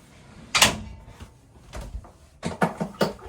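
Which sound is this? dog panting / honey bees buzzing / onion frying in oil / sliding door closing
sliding door closing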